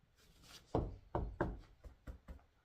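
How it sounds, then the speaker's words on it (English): Six quick knocks on wood sound close and faint, uneven taps spaced a fraction of a second apart with soft thuds, alone with no talk. "Knock on some wood."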